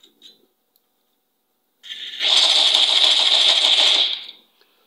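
A toy game trigger is reloaded: a couple of faint clicks, then a loud, close mechanical whirring rattle that runs for about two seconds and fades out.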